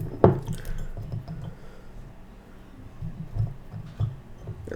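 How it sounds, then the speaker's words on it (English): Sliced Reaper chilies dropped into a glass jar, one sharp clink followed by a few softer wet taps and knocks of glass, close and quiet with no voices. "I'm just going to pop our pretty little Reaper slices in there."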